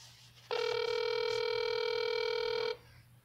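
A telephone tone rings out on a call as it is being transferred to voicemail: one steady, loud electronic beep of about two seconds with no voices over it.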